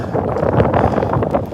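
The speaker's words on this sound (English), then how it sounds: "So yeah, it's windy." Wind buffets a microphone outdoors during a run, a loud, constant broadband rumble with no talk over it.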